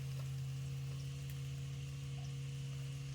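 Onion, tomato and ginger-garlic paste frying in a pan for a North Karnataka style dish, a steady soft sizzle with a constant low hum underneath, no talking.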